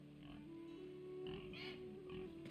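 Pigs in Octopath Traveler II give soft grunting oinks, a few short snorts over a quiet steady game ambience hum.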